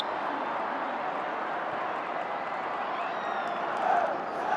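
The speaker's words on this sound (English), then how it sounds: "Just a little bit of a cheer from the Gangwon end." Steady crowd noise from a K League 1 football match between Seoul and Gwangju, a broad continuous roar with a slight swell near the end, heard from a distance without distinct voices.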